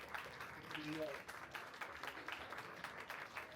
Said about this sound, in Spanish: Démosle un aplauso, por favor, a Gabriela Damián Mirabete